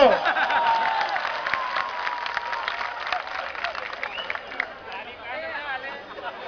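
A large crowd claps at an outdoor election rally in Ahmedabad, the applause fairly loud and continuous, then thinning into crowd murmur and scattered voices toward the end.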